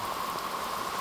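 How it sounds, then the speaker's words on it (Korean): A heavy downpour pours down outdoors as a dense, steady hiss of rain, continuous and even without any voices. "비가 지금 억수로 내리고 있습니다"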